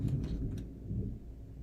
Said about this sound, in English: That was a big-ass clap of thunder.